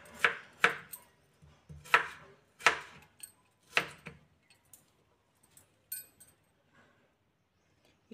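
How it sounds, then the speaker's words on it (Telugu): Knife strikes on a board come as crisp, close chops while potatoes are cut into small pieces, a quick run of sharp hits that thins to lighter, sparser taps. "ఇట్లా 4 బంగాళదుంపల్ని చిన్న చిన్న పీసెస్గా ఇట్లా కట్ చేసుకోండి"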